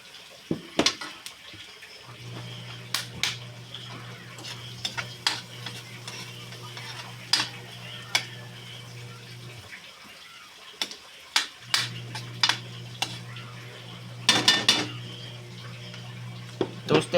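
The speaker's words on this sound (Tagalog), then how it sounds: "Toasted lang natin ng konti yung bawang" Garlic toasting in a frying pan for fried rice, a low steady sizzle broken by frequent sharp scrapes and clicks of stirring, moderately close, with a short pause midway and no talk.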